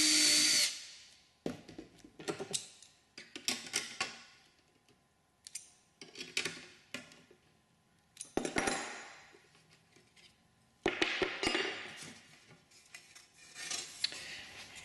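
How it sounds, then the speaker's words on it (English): Repeated bursts of a power drill whining and biting through an aircraft instrument panel's metal, each lasting a second or two, separated by short pauses and handling clatter. "we want to cleco this as we go so that it doesn't move as we drill the remaining"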